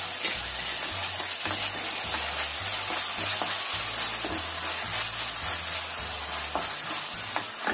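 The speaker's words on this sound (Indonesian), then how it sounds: "Kita aduk sampai tercampur rata." A spoon stirs eggplant sauce with chili and tomato sauce in a sizzling pan, the steady frying hiss broken by regular scraping strokes roughly every half second, close and continuous with no voices.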